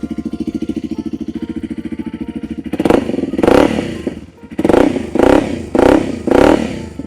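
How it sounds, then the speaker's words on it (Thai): A 2022 Honda CRF 300 L dirt bike idling with a loud, rapid exhaust chug, then revving in several strong bursts close by. "สตาร์ทง่ายๆเลยครับลูกค้าท่อลั่นๆเลยนะ"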